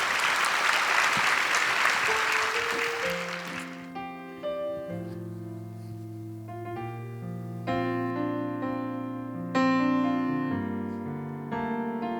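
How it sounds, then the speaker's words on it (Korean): Audience applause in a church hall fills the opening seconds, then fades as piano music begins to play alone. "박수 부탁드릴게요"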